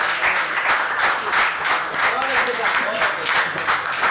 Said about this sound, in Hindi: आप सबकी भरपूर तालियों में सरवर खान सरवर।